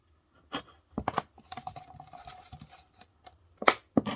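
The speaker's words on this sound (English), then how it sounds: "So I'm using a little pair of scissors." A little pair of scissors snips to enlarge holes in a craft piece, giving a series of quiet, irregular close clicks and crisp cuts.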